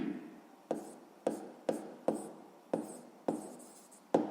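A pen writes on paper in a series of about seven short scratching strokes, each with a sharp start, close and fairly quiet.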